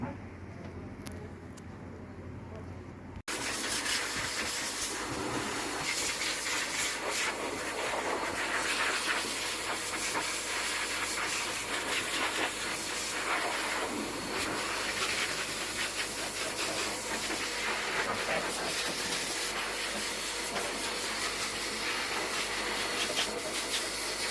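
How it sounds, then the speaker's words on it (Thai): A pet blow dryer blasts a golden retriever's thick coat at a dog grooming salon, its loud steady rushing hiss starting abruptly after a few quiet seconds and running on unbroken. "จะพาน้องไปเป่าขนกัน"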